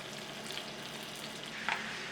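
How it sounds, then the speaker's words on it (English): Butter sizzles in a hot pan, a soft, even hiss that stays quiet throughout, with a brief brighter crackle near the end and no voices. "Now I'm gonna add in about 2 tablespoons of butter."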